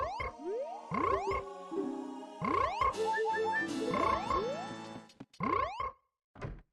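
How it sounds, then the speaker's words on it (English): Frog croaks replacing chicken sounds in an Ocarina of Time randomizer game, a run of springy, rising, boing-like calls repeated in quick bursts, loud and close, with a short pause before a final few. "The frog sounds on the chickens are horrifying."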